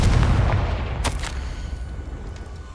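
Confringo blasting-spell explosion from Hogwarts Legacy: a loud, deep booming burst that decays over a couple of seconds, with a sharp crackle partway through.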